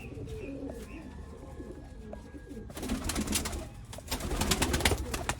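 Teddy breeder pigeons coo close by, low throaty rolling calls that repeat and grow busier toward the end, over a hum of background noise.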